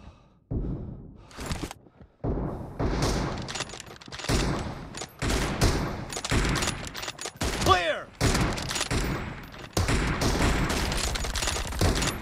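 Bursts of video game gunfire crack out in rapid volleys amid a team shooter match, loud and close, broken by brief pauses, with voices speaking between the shots.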